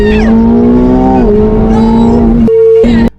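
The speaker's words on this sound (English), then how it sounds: "As the McLaren's engine howled" A McLaren Formula 1 car's engine screams loudly and close, holding a steady high-pitched howl with a rising rev and a brief gear-change dip near the end before cutting off.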